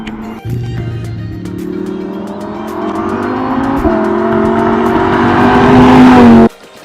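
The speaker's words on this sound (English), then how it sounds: "It's a Lambo right there. Lamborghini." Lamborghini driving past on a mountain road near Glendora: a loud, close engine note with steadily rising pitch and growing volume over several seconds, then a sharp cutoff, with no talking.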